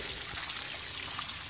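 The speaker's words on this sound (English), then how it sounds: "All right, water is back on." Water running through a Mercury Optimax outboard engine during a flush with the motor off, a soft steady trickle and splash heard close and alone for a short moment.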